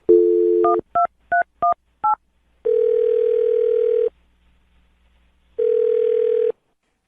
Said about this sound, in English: I'm dialing the phone number.